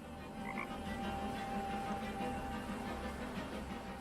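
Frog croaking in the adventure game Chaos on Deponia, a continuous low, throbbing croak chorus held steady for several seconds at moderate loudness, no voices.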